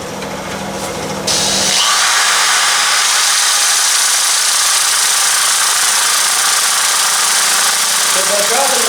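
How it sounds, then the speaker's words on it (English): A wooden bowl turned from a tree limb spins on a lathe and is sanded at turning speed: a loud, steady, broadband rushing hiss that starts after a quieter motor hum and holds without a break. "We're going to sand at the same RPM as what we was turning"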